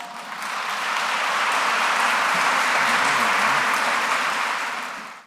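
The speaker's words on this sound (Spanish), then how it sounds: "Los recibimos con un cálido aplauso." Warm applause welcomes a speaker at the fourth International Congress on violence in schools, a dense, steady crowd clapping that swells quickly, holds for about five seconds, then tapers off.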